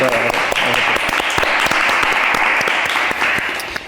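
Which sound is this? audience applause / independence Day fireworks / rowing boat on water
audience applause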